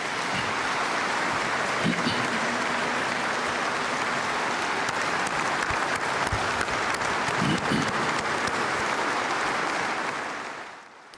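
Sustained applause from delegates at a United Russia party congress honouring medical workers, a dense, steady wash of many hands clapping in a large hall for about ten seconds before tapering off, with faint voices beneath.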